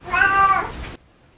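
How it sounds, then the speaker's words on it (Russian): A single loud, close cat meow, drawn out and tonal, cuts off abruptly into near silence. "Кличку белого медведя носит кот Трамхайлис Слепнер Аф Марингейм."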